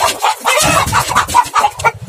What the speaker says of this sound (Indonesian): Ayam susah banget ditangkapnya.